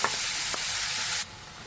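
Chopped watermelon rind is stirred into hot oil in a pan, giving a bright steady sizzle with a couple of quick scraping stirs before the hiss drops sharply quieter near the end.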